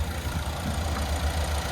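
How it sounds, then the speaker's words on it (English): Turbocharged 2.0-liter four-cylinder in a 2026 Chevy Blazer idles steadily at close range, a low continuous engine hum with no speech. "And there's that 2-liter turbocharged 4-cylinder engine."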